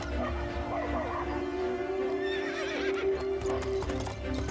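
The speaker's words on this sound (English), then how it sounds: "mounted a horse, and rode off into the forest on his own" A horse clip-clops away at a steady gallop, riding off into a forest, while a loud whinny rises in the middle, all over a dense bed of dramatic background sound.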